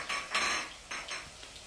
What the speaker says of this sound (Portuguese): Com a mesma colher eu mexo o alho